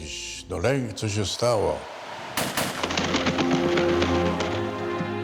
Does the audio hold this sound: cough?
no